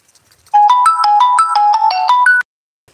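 A mobile phone ringtone plays loud and close as a quick electronic melody of bright, evenly paced tones for about two seconds, with silence before and after.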